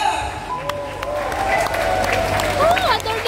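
Applause from a crowd at a political rally rises in a brief burst, mixed with cheering and voices over the clapping.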